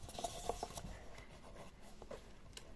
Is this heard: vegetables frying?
no